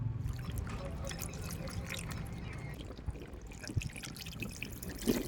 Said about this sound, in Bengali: মাছটা ভালো করে এবার ধুয়ে নিয়ে চলে আসবো